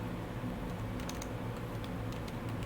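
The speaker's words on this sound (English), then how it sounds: "I'm intentionally typing this" Typing on a computer keyboard with quick, light key clicks in an uneven patter over a quiet room hiss, heard alone with no voices.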